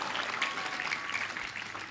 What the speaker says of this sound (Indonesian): Yo tepuk sing banter gak apa-apa.